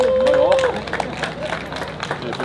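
A crowd at a Limburg car meet claps and cheers for the owner of a blue BMW, scattered applause running under loud nearby talking.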